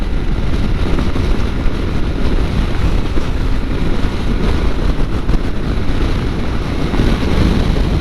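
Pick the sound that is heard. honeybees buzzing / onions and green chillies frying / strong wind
strong wind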